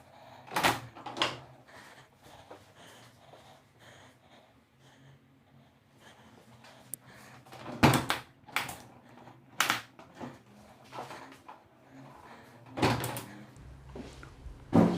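Tilt-and-turn hinged window being opened and tilted, a series of sharp clacks and handle clunks spaced through quiet room tone, fairly close, with no talking.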